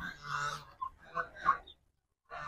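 Ducks honk loudly and close in a village yard among chickens, several distinct nasal calls in quick succession, then a short pause before another call begins.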